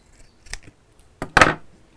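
Scissors trim the loose end of fabric while a storage pouch is sewn, giving one light snip and then two closer, crisper cuts in quick succession.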